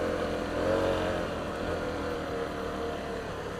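A Honda CRF250L enduro motorcycle rides over damp, fairly firm sand, its single-cylinder engine holding a steady loud drone with a slight rise early on, with no talking.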